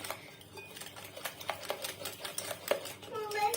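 Eggs and sugar are beaten by hand in a bowl while oil is poured in gradually for a cocoa cake batter. Quick, irregular clinks and taps of the utensil against the bowl sound close and fairly soft.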